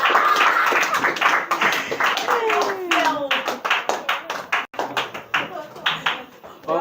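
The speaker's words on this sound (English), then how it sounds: "Clap for yourself now." Audience members clap at a talk on leadership, life and marriage, loud close hand claps, first dense, then thinning into scattered individual claps, with voices mixed in.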